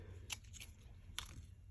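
Glue-coated craft scissors snip during papercraft work, two or three quiet, crisp cuts over a low background hum, with no voices.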